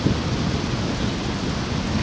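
Fireworks at an Independence Day show boom continuously, a dense rumbling roar with low thuds blending together like distant thunder, steady and loud throughout with no talk.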